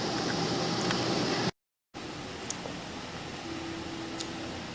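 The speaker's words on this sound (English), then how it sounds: "My wort is up to boil, so I'm going to add the first amount of hops to the boil" Beer wort at a rolling boil with hops added, a steady faint broadband hiss and bubbling wash heard close, briefly cut to silence and then resuming with a few small clicks.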